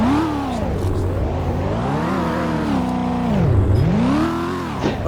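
A car engine in Car Crash Sim revs up and down in repeated swells, a loud, harmonic whine whose pitch climbs and falls in arcs several times, with no talking.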